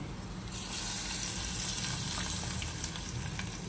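Spices for nalleru pachadi sizzle as they temper in hot oil in a pan, a close, steady frying hiss that rises briefly and then holds with faint crackles.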